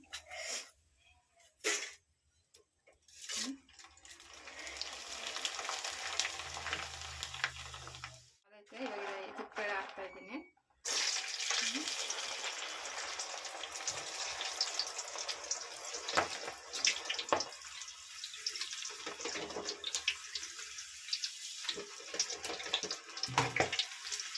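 Homemade snack frying in hot oil, giving a steady, fairly loud sizzling hiss that runs through most of the stretch, with brief pauses early on and a voice speaking at moments.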